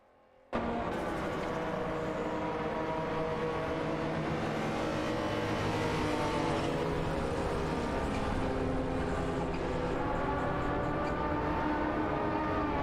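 Racing-game engines, including a Toyota Celica GT-Four and a Porsche 930 Turbo 3.3, drone continuously at high revs, their layered pitches rising and falling as the cars duel, loud and unbroken throughout.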